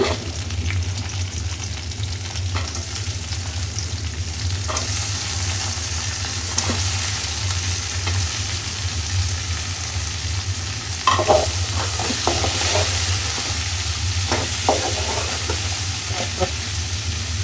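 Bitter gourd and onion sizzle in hot oil in a pan, a steady loud frying hiss with intermittent scraping stirs and clinks near the end, no one talking.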